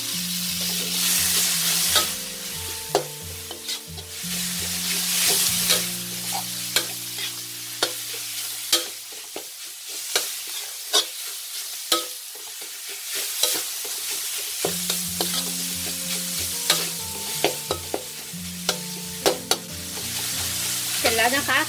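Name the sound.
minced pork stir-frying in a pan for chilli dip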